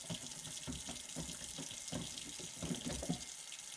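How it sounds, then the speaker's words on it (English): Water runs steadily from a tap into a sink to rinse a black-and-white film developing tank, a continuous splashing flow with uneven gurgles as the stream hits the tank, with no talking. "now I'm going to get some water going here."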